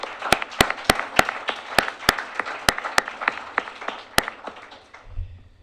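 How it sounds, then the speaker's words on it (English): Steady applause from a crowd, dense clapping with a few sharp, close claps standing out, tapering off at the end. "give us one more round of applause for our young people"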